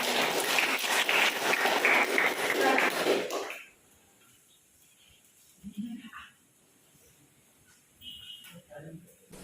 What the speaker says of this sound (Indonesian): Sebelumnya kasih tepuk tangan dulu yang mulia.